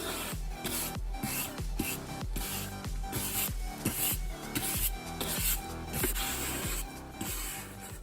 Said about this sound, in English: I had to use one of my brushes to clean up.